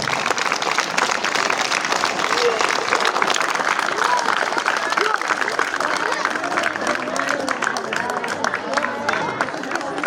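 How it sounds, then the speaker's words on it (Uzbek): A school audience at School 64 in G'uzor applauds a mother receiving a certificate of thanks: a loud, continuous wash of many hands clapping fills the whole stretch, with faint crowd chatter beneath. "qarsakchalik olqishlab qo'yasiz"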